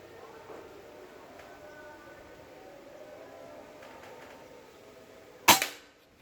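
One sharp, muffled snap of a Bocap Pajero Gen 5 PCP air rifle firing a Hercules pellet near the end, close by, after several seconds of low background noise.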